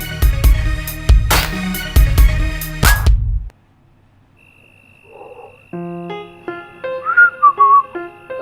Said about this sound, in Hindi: मुंह से सीटी और चाल में उछाल